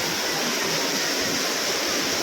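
Heavy rain pours down in a dense, continuous broadband roar, loud and close, with no voices over it.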